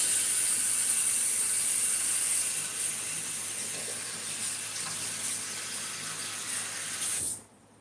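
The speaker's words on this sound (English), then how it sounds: "I gotta rinse it off" Water runs steadily from a kitchen tap as something is rinsed beneath it, a constant close hiss and splash that carries on alone before the flow is shut off abruptly near the end.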